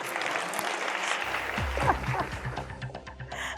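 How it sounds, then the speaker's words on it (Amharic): Applause from a studio audience on an Ethiopian TV game show for the banker, a busy clapping texture with a low musical sting and tonal accents rising partway through. "ሞቅ ያለ ጭብጨባ ይፈልጋል"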